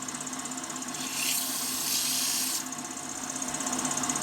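A steady, bright sanding hiss on a wooden Christmas angel ornament runs throughout, growing louder and harsher for about a second and a half midway before easing back.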